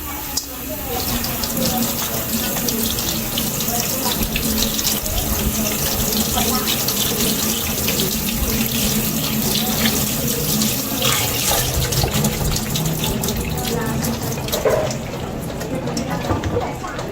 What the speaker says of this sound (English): Give this a rinse.